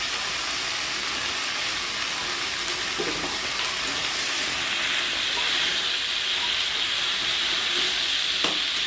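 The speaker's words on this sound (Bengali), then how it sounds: "কিছুক্ষণ নাড়াচাড়া করে তারপর কতক্ষণ ঢেকে রাখতে হবে" Jute leaves with boiled jackfruit seeds, salt and turmeric stirred in a hot pan: a loud, continuous sizzle and hiss with occasional soft scraping of the stirring, close by.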